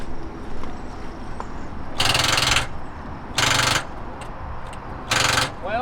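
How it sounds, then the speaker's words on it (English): A 2002 Ford Ranger engine cranks three times without starting, each attempt a loud rough starter grind of about a second separated by quieter pauses. "Let's see if it'll crank right up."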